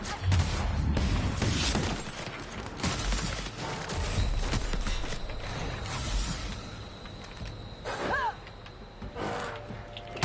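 Cannons fire in the video game The Outer Worlds, a dense barrage of loud booming blasts strongest at the start, continuing amid rumbling combat noise and a short rising whistle-like sweep near the end.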